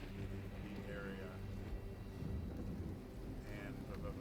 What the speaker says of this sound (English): A rain starts to fall over the area